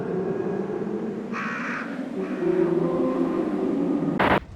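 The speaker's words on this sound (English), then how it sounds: "this drone being broken with a singular crow call, which sounds like a funeral bell" A single crow call from the 1998 Resident Evil 2 video game breaks through a low, sustained synth drone, rising briefly and distinctly above the hum before a sharp burst near the end.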